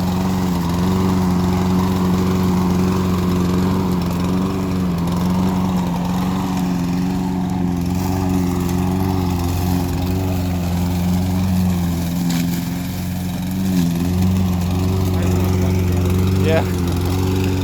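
Saber Edge lawnmower with a Briggs & Stratton OHV engine running steadily and loud for the whole stretch, a close, even droning hum with slight wavering in pitch; faint talk sits beneath the engine.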